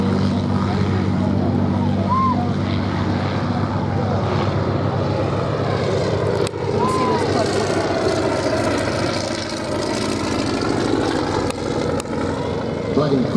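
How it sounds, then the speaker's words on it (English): The Shuttleworth Collection's vintage Bristol fighter biplane flies at a Duxford air show, its propeller engine giving a continuous loud drone with shifting pitch as it passes, over a constant crowd and wind background. "the unmistakable shape of the Shuttleworth Collection's Bristol 2B fighter, the Brisket."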